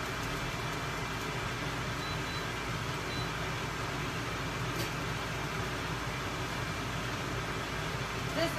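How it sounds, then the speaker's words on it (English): A kitchen fan runs steadily while filet mignon cooks, giving a constant broadband whoosh at an even level for the whole stretch with no breaks. "I was going to turn on this other fan just in case."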